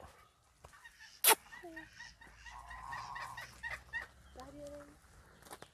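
Geese honk nearby in a scattered series of nasal calls, with other fowl and a sharp click mixed in.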